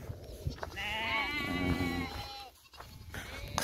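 Sheep bleat in a long wavering call close by during summer grazing on a Kazakh pasture, with farm ambience and a voice briefly around it.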